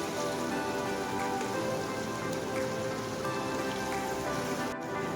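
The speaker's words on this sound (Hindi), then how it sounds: "मसाले को हम अच्छी तरीके से भून लेंगे" A spice paste fries in a pan with a dense, continuous sizzle and crackle, like steady rain, close and even in loudness throughout with no voices.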